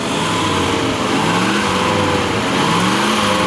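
A 1969 Mercedes-Benz 300 SEL 6.3 V8 revs loudly and close by, its engine note rising and falling in several smooth surges with no talking.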